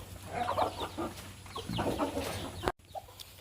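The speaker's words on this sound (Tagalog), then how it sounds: "Mga manok!" Several chickens cluck and murmur close by, a busy overlapping flock chatter with a brief drop-out near the end.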